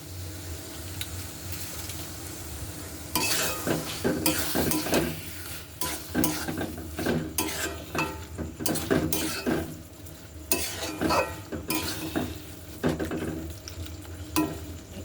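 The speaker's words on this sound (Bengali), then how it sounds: "এই মাংসটা দিয়ে খানিক্ষণ আর পাঁচ থেকে দশ মিনিট একটু ভালো মতো কষিয়ে নেবেন" Boiled chicken pieces sauté in a pan, a soft sizzle for the first few seconds, then repeated scraping stirs of a spatula against the pan over continuous frying, close and rhythmic.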